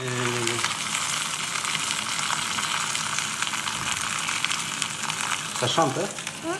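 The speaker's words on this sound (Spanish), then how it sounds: "Está cantando el pollo" Chicken fries in butter in a pan over strong heat, a loud, dense, continuous sizzle with crackling pops, steady throughout.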